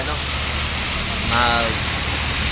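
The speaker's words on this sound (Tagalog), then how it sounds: "So medyo malakas pang ulan no." Heavy rain pours down outdoors in a steady, dense hiss that fills the whole scene, with a brief vehicle or engine sound passing midway.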